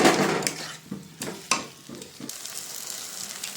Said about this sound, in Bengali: চলো কতক্ষণ নাড়িয়ে নিই।